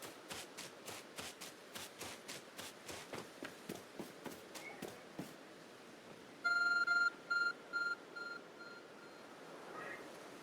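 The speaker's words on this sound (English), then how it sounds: "There's a glowing, beeping object over there." A glowing, beeping object in Pokemon Legends: Arceus gives a short series of bright electronic beeps in quick bursts, following a run of in-game footsteps and heard alone without talk.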